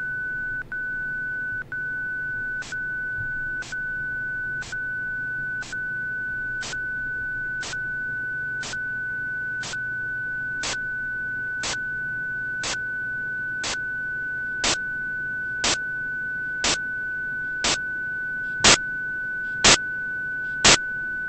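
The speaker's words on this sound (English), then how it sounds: "In the final group, the spectrum level of the noise is the same as that of the tone." A steady pure tone runs throughout while short noise bursts interrupt it at regular one-second intervals, the bursts growing louder until they match the tone's level, with no voices.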